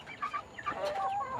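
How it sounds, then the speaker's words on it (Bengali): Desi and Sonali chickens on a small farm cluck in short, soft, overlapping calls at close range, a steady busy murmur with no talk. "এখানটায় হচ্ছে এটি দেশি মুরগি এবং এটি হচ্ছে সোনালী মুরগি"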